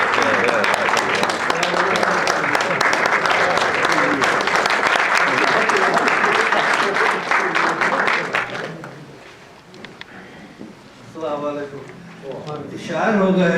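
Audience at a literary gathering in Atlanta gives sustained, dense applause for most of the stretch, loud and even, before it fades and a voice begins speaking over the last few seconds.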